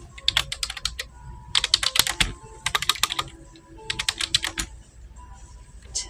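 Computer keyboard being typed on in irregular bursts of quick, close key clicks separated by short pauses, with no talk.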